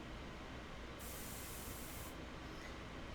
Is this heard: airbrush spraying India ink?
yes